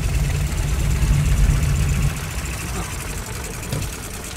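A horseless carriage's engine idles on a Berlin street with a loud, rough, low rumble for about two seconds before easing into quieter running, with no talk over it.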